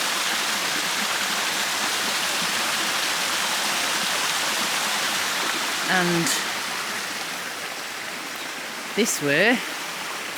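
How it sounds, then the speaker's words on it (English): Small waterfall and stream in woods in Portugal: a steady broadband rushing of water close by, with brief bird calls and a short spoken phrase over it. "There's a waterfall."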